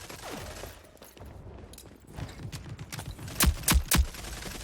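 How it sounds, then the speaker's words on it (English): Gunshots in the shooter game Rogue Company: a scatter of faint pops, then three louder sharp shots close together near the end, over a muffled background of game noise. "Somehow I missed all my shots."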